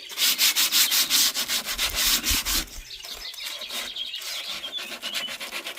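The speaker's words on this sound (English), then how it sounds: "some people might not even think about rubbing down the woodwork themselves" A vintage cottage wooden chair being hand sanded with sandpaper, rhythmic back-and-forth rasping strokes, close and loud at first, then lighter, quicker rubbing with no talking.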